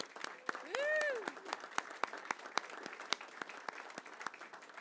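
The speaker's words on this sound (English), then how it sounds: "Can we give them a round of applause?" Applause at a school board meeting for unified school sports teams, a modest crowd clapping in a steady patter throughout, with a brief whistle or cheer near the start.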